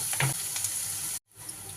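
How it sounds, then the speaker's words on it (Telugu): Onions frying with salt in a pan, a loud continuous sizzle with scraping stirs that cuts out briefly, then resumes, close up with no talk. "ఆనియన్స్ అయితే సగం ఫ్రై అయ్యాయి."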